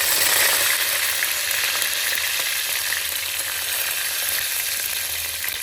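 Mustard seeds and curry leaves fry in hot oil, giving a loud, dense, continuous sizzle that stays steady from start to finish with no voices.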